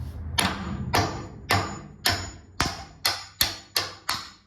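Eight sharp metallic hammer whacks strike a bolt on a 1978 Ford F100 bed frame, each ringing briefly, coming faster and more evenly toward the end, close up with no speech.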